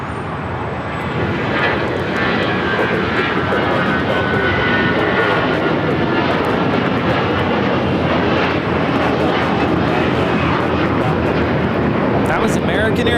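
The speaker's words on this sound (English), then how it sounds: "That was American Airlines 1672 taking off to Dallas Fort Worth on the A321" An American Airlines Airbus A321 airliner takes off at LAX, its engines producing a loud, sustained jet roar that holds steady throughout.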